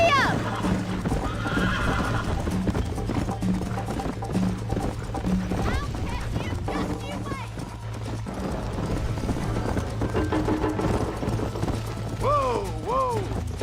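A horse gallops in the video game Red Dead Redemption, with rapid clip-clop hoofbeats and a neigh, plus tack jingling and mechanical clicks, under ongoing talk and background music.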